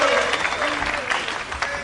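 Snooker audience applauding in Cardiff during a World Pool Championship match, a steady patter of clapping throughout with murmured voices mixed in.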